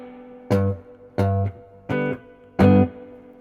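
Four separate guitar chords are struck at an even pace through a tube amp, each ringing briefly with a springy, slightly metallic spring-reverb tail.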